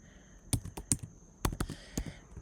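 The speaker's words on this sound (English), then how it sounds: "I'm going to type a strong password." A password being typed on a computer keyboard, a handful of sharp, close key clicks in uneven bursts over a faint steady hum, quiet and without talking.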